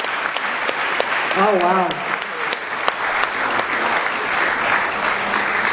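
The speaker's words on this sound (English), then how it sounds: "Keep clapping as he's coming." An audience at a charity centenary celebration claps steadily as a speaker comes up to the stage, a dense continuous patter with a brief voice exclaiming early on.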